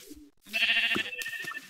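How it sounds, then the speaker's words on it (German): Sheep in the Minecraft video game bleating, a short bleat with a game sound effect, a few quick tones in close, fairly loud succession with no speech. "Da ist auch noch ein Schaf."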